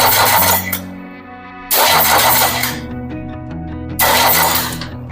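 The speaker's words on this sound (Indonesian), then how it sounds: "Kita starter untuk mengetahui tekanan kompresinya." A diesel engine cranks on its starter during a compression test in three loud, rhythmic chugging bursts, separated by a lower steady hum.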